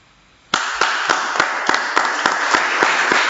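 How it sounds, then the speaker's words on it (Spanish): A church congregation starts clapping after a brief quiet moment. The crowd settles into steady, rhythmic claps at a brisk even beat, loud and close, with no voices over it. "Puede dejar su vasito y dar un aplauso a Cristo Jesús."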